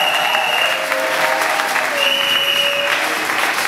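A church congregation bursts into loud, sustained applause mixed with cheering acclamations and a few shrill whistles, a continuous close crowd roar with no pauses.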